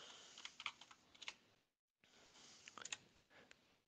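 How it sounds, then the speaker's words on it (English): Keys clatter on a computer keyboard as a short chat message is typed, two quick bursts of light clicks separated by a brief silence, close and fairly quiet with no talking. "and I'll type hi"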